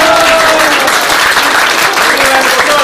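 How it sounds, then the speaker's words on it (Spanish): Loud, close audience clapping fills a brief burst of applause, with a few voices calling out over the dense clatter of hands. "¡Un aplauso para la compañera!"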